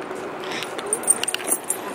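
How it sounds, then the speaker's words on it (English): Keys jangle in short metallic bursts as they are tucked into a new backpack at a shopping mall, with faint voices and store ambience around them. "put the keys in there and zip it"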